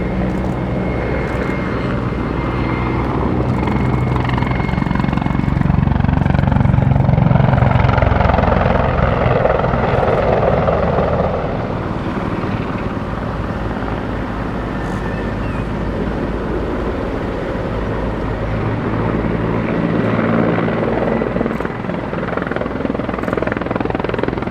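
A Mi-35 helicopter flies at the Battle of Britain Airshow 2022, its loud, heavy rotor thrum and engine roar swelling as it passes close, easing, then building again over wind buffeting.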